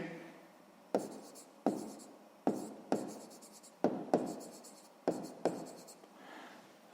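Pen or pencil writing by hand on paper during a sixth-grade math exercise, close and quiet, a series of short scratchy strokes in uneven bursts with brief pauses between.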